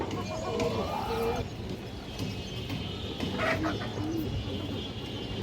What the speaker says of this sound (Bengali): এটা হচ্ছে নর কবুতরটা